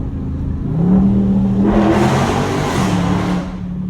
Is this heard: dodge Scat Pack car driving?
yes